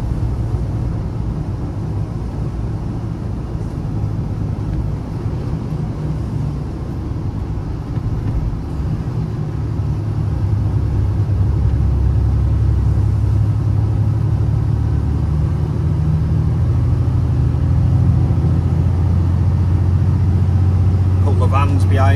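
A Volvo HGV wagon with an automatic gearbox and a HIAB crane, loaded with building supplies, climbs a hilly, narrow road, heard from the cab as a constant low engine rumble that deepens and grows louder as it pulls uphill.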